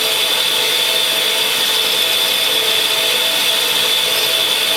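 A bench grinder wheel being dressed with a dressing stick, a loud, steady, high-pitched abrasive whine and hiss that holds constant and close throughout, with no talking.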